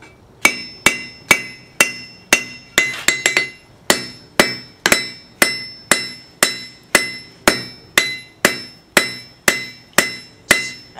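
A hammer strikes a fire poker over an edge hardy on a blacksmith's anvil, about twenty loud, ringing blows in a steady rhythm, with no talk.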